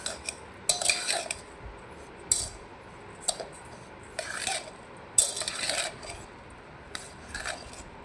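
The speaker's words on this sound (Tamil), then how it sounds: "இப்போ நல்லா கிளறியாச்சு" A spoon clinks and scrapes against a metal pan as a rava puttu mixture with sugar and coconut is stirred, in a string of short, bright, uneven scraping bursts with quiet gaps.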